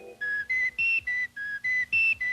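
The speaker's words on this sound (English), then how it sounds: "would you guys like a wiener whistle?" An Oscar Mayer Wiener Whistle toy blown in about eight short, bright toots in a steady rhythm, its pitch shifting slightly from toot to toot.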